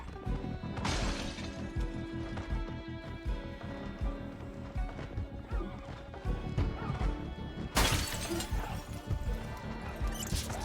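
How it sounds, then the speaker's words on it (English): Crowds of zombies in the video game Project Zomboid batter and smash against things, a continuous jumble of thuds, crashes and rattles with a sharper burst of smashing partway through, moderately loud and without speech. "dozens of angry zombies smashing things to try to figure out how to path to me"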